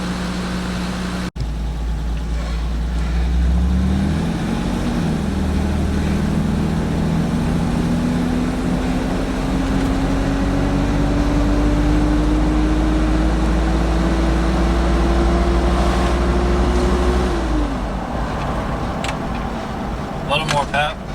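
A 1989 Toyota Land Cruiser FJ62 with the 3FE engine, desmogged and EGR deleted, drives steadily with a low engine drone whose pitch climbs slowly as it accelerates, then drops back, heard close and alone.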